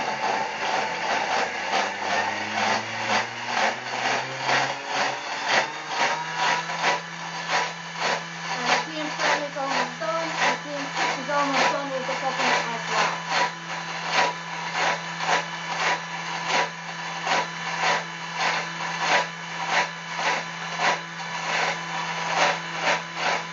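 A Thermomix mixes hot chocolate with a steady close motor whir that holds a low drone, backed by a fast rhythmic ticking churn that keeps up throughout.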